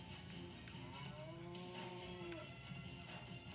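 A cow or ox moos in the Keio Flying Squadron video game, one drawn-out low bellow with a rising-falling pitch, clear over steady game background sound.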